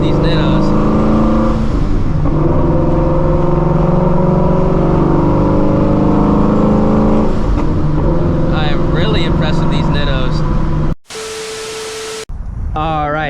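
A Procharged Shelby GT350 on Nitto NT555R2 drag radials pulls hard, its loud engine drone holding steady and then climbing under a rising whine before cutting out suddenly, followed by a short burst of other noise.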